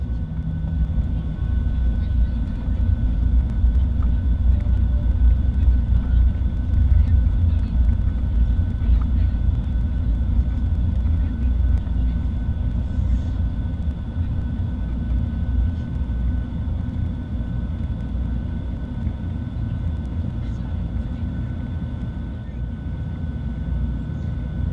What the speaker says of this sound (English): Now sit back and enjoy the takeoff footage.